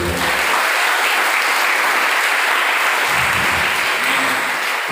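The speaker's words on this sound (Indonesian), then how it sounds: "Tepuk tangan untuk semua orang." Audience applause at a public speaking seminar in an Islamic institute hall in Bogor, continuous loud clapping from a crowd filling the whole stretch with an even roar.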